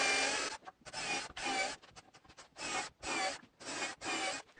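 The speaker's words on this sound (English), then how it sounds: "I start by drilling pilot holes for the screws." Drilling pilot holes for screws in wood, a series of harsh, raspy bursts of about half a second each, close and fairly quiet, separated by brief pauses with no talk.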